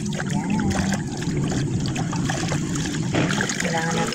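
Food being rinsed under running water before cooking in a busy outdoor kitchen preparing a children's feeding meal, with a steady trickle and splashing throughout and voices in the background.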